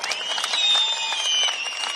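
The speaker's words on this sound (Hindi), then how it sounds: "जोर से ताली बजाना जरा" A crowd at an election rally in Kishtwar, Jammu and Kashmir, breaks into dense, loud applause, with many hands clapping steadily and a whistle-like tone running over the clapping.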